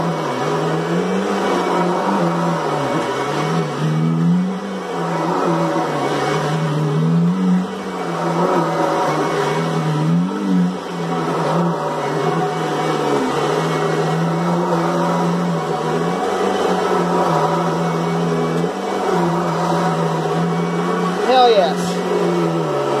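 A 2011 Kirby Sentria upright vacuum cleaner runs across a floor, giving a steady, close motor whine and hum with slight rises and dips as it moves.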